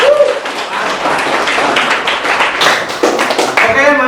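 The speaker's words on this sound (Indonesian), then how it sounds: "Beri aplaus untuk kita semua." A classroom of students claps together in a short, dense burst of applause, loud and close, fading near the end with a voice over it.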